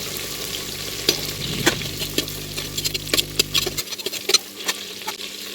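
Curry leaves and green chillies crackle in hot oil for a Catla fish curry, with dense close sizzling and sharp popping spatters, then a low hum cuts out while the crisp pops and stirring clicks carry on.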